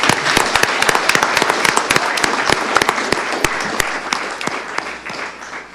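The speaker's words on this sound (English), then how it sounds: "So let's give a round of applause for Mel." Applause at a township board of commissioners meeting: a roomful of people clapping loudly, with several sharp individual claps standing out close by, before tapering off near the end.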